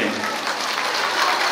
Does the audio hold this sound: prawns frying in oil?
no